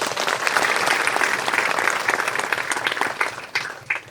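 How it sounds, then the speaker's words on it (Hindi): Loud, sustained applause from a crowd at a golden jubilee wedding anniversary celebration and church Mass, with dense clapping throughout that tapers near the end. "मैं आग्रह करता हूँ कि जोरदार ताली बजाइए"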